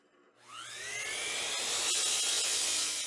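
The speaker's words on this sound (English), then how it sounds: "The hole that I'm drilling right now is in that strip of plywood spring" A power drill spins up after a brief pause and bores steadily into a strip of plywood with a loud, continuous whine, close by.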